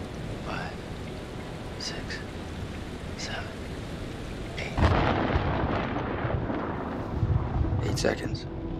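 Steady rain hisses through a rainstorm in the video game Man of Medan, then a loud, close thunderclap bursts out midway and rumbles on over the downpour.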